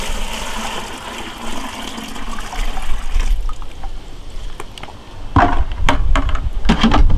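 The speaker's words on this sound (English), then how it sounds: "Okay, now we can put the water in." Water that has been standing overnight is poured into a 3-gallon plastic bucket, a loud splashing, gurgling stream that grows busier and louder in the second half, close to the listener.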